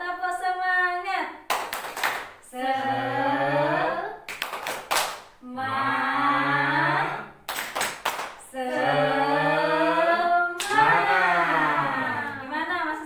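Short bursts of rhythmic group clapping at a parenting-education session alternate with a group of adults chanting together, repeating about four times in an even pattern at close range.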